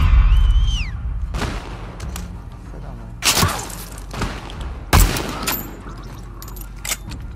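Gunfire during an ambush in The Last of Us Part II, with several sharp, loud shots and thuds over a rumbling game soundscape and tonal effects.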